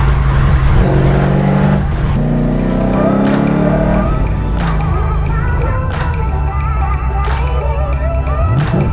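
An idling car engine runs loud and close with a steady low rumble, broken by periodic sharp snapping sounds; someone speaks briefly alongside it.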